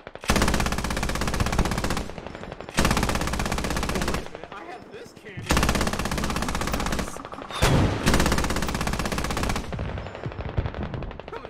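An anti-aircraft truck in a video game firing frag rounds at a UAV, four long sustained bursts of rapid automatic cannon fire separated by brief pauses, loud and close.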